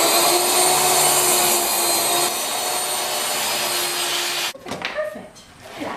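A steady, loud power saw whines through a wooden base for several seconds, then cuts off, leaving a few softer knocks and rustles.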